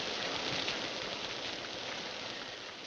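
Steady rain falls in a constant, even hiss, with soft patters throughout and no voices over it.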